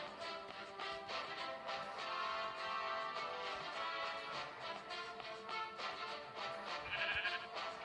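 Sheep bleating in the Minecraft video game, a black sheep among the animals, with repeated wavering bleats filling the clip at moderate volume.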